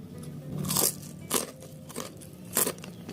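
Crunchy bites into crispy fried tofu made with scallion and celery, three sharp crackling crunches spaced apart, close and fairly loud with quiet chewing between them.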